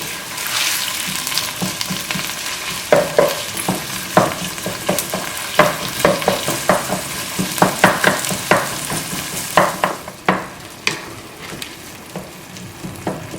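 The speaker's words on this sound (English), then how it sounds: "break it with my spoon or spatula so it won't form any lumps" Ground beef for lasagna sizzles in a hot pan while a spoon or spatula repeatedly chops and scrapes through it, giving clustered scraping clicks over a steady fry that eases off near the end.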